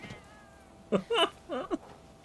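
A Palico cat in the video game Monster Hunter: World gives a short run of three or four clear, close meows, each rising and falling, over quiet game ambience.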